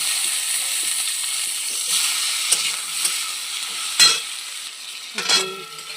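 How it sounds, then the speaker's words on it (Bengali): Chopped tomato and onions frying together in a pan with a steady sizzle, broken by a few soft stirring scrapes and clinks, close up, with no one talking. "পেঁয়াজটা ভাজা ভাজা হয়ে গিয়েছে, এবার টমেটো কুচিটা দিয়ে দেব"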